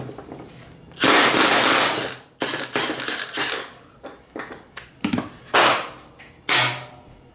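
A ratchet wrench works on a 22 mm spindle bolt of a John Deere Z335e mower deck, giving loud bursts of mechanical clicking and grinding separated by short pauses, close and alone.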